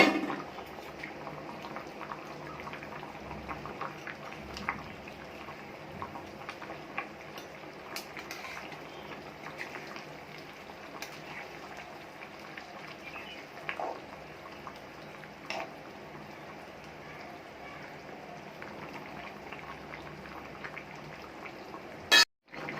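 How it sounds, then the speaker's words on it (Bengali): Fried masoor dal fritters simmer in a lentil curry: faint, scattered bubbling pops and ticks go on throughout, with a louder knock just before the end. "এবারে দিয়ে দেবো ভেজে রাখা মসুর ডালের বড়াটা দিয়ে আমি এক মিনিট মতো ফুটিয়ে নেব"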